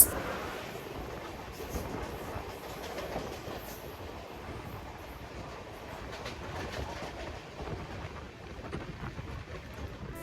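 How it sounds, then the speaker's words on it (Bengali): Kaviguru Express, the Howrah to Jamalpur passenger train, rumbles past in a steady, loud wash of rail noise with wheel clatter and wind buffeting, holding at a fairly even level throughout. "একশো তিরিশ পনেরো হাওড়া থেকে জামালপুরগামী কবিগুরু এক্সপ্রেস"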